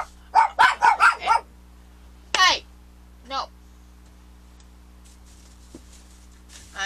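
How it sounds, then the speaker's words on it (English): Several dogs bark indoors, a fast burst of sharp barks followed by a couple of isolated yips, close and loud against a low hum. "I'm trying to teach the dogs not to bark, but Lance help me."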